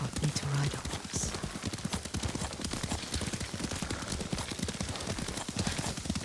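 Horse hooves clip-clop in a steady trotting rhythm as a rider travels in Ghost of Tsushima, with occasional speech in the background.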